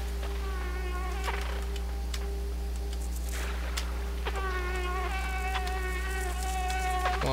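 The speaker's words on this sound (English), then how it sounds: "That's not a cricket, that's like a wasp or something." A giant wasp-like insect in the video game Limbo gives a droning, high-pitched buzz over a constant low hum. The buzz swells and fades in several uneven bursts, close and fairly loud, with no speech.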